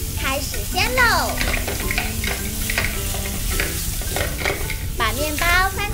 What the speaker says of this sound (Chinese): 把面包放进来，开始煎喽